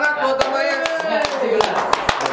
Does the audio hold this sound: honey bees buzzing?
no